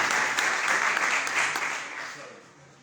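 Youth conference audience applauding in a hall, a broad wash of clapping with a few sharper claps, loud at first and then gradually fading away.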